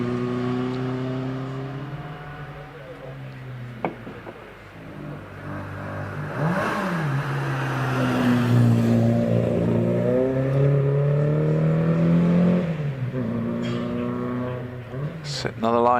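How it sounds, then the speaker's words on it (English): An Alpine A110 rally car accelerates away from the line on a hillclimb course through trees, its engine rising through several gear changes, with a commentator talking over it. "Away goes Simon Derling in the Alpine A110."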